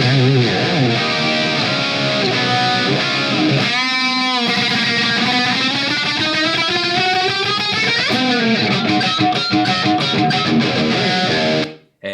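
Heavily distorted electric guitar through a Marshmello 'The One' amplifier with power amp distortion, playing sustained, saturated chords and bending notes, loud and continuous, with no talking, cutting off abruptly at the end.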